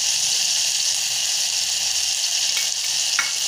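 Red chili powder sautéing in a hot pan gives a steady, close sizzle and frying hiss throughout, with a couple of faint stirring scrapes near the end and no talking.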